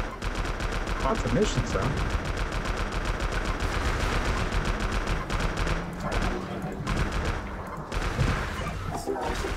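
Rapid video game gunfire crackles throughout, dense and fairly loud, with a voice talking over the shooting.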